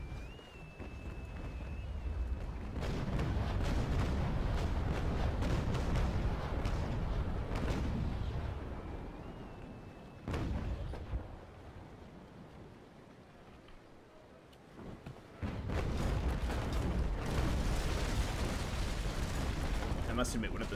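Naval cannon barrages in Naval Action, long rolling booms and sustained rumbling volleys in two main waves separated by a quieter stretch with water and distant shots, fairly loud and close.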